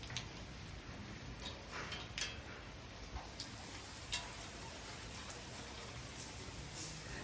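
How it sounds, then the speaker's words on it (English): Steady rain falling at Lake Como, heard as a constant soft hiss with scattered light drips and taps on surfaces, moderately near and fairly quiet, with no talking. "It's raining and it's supposed to rain for like next 24 hours with thunderstorms"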